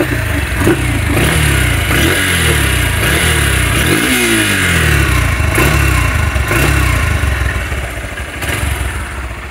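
A 2020 Honda X Blade motorcycle in good condition with about 13,000 km, its single-cylinder engine running loud and close, with repeated throttle blips rising and falling over a steady idle.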